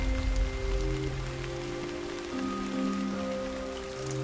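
Rain falls steadily in the Bergisch Land region of Germany, a dense, even wash of drops on surfaces heard close and unbroken, over a low sustained tonal hum.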